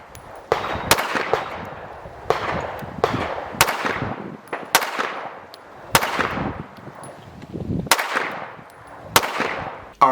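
A Race City Defense RC9 Kovert pistol fired standing with a traditional grip, eight sharp, loud shots spaced roughly a second apart, each cracking sharply and then ringing out in a short decaying echo, with no talking.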